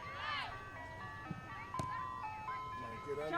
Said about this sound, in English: Cameraman heard the old ice cream truck